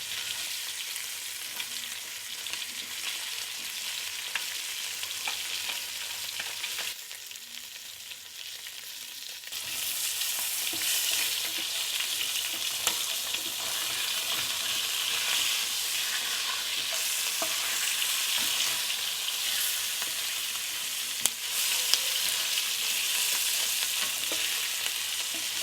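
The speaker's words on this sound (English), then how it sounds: "Fry it on a medium flame for 15 to 20 minutes until golden brown on both" Food frying in a pan over a medium flame gives a steady, dense sizzle with occasional crackles and stirring scrapes, continuous throughout and briefly quieter before swelling again.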